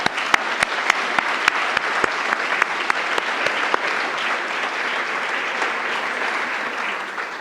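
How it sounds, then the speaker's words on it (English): A conference audience gives a round of applause for the program committee members, a dense, steady clapping from a large crowd in a hall with sharper individual claps standing out, fading slightly toward the end. "I would like a round of applause for all of our CPC members."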